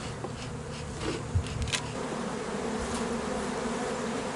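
Honeybees of the Buckfast strain, the calm line bred by Brother Adam, hum steadily at an open hive, a dense continuous buzz close by with a few louder individual bees passing near.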